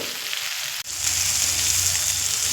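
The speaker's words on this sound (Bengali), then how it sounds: "পরিমাণ মতো জিরের গুঁড়ো দিয়ে দেব পরিমাণ মতো ধনের গুঁড়ো দিয়ে খুব সুন্দর করে দু থেকে তিন মিনিট মিডিয়াম ফ্লেমে কষিয়ে নেব" Spinach sautés with cumin and coriander powder in a pan over a medium flame, giving a steady close sizzle that breaks off for an instant early on and then resumes slightly louder, with no talking.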